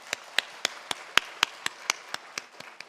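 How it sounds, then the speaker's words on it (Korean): A church congregation claps during a Sunday service, a sparse scatter of sharp, separate hand claps, roughly ten spread over a few seconds, close and distinct rather than a full roar of applause. "하나님께 영광의 박수 올려드리겠습니다."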